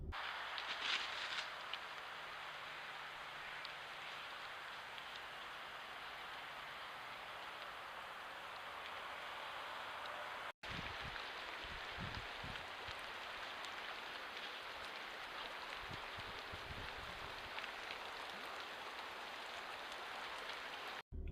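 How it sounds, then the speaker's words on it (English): Steady rain patters on a hunter's poncho in the woods in November, a dense continuous hiss of drops close by with no talking. "I'm under my poncho. It's raining."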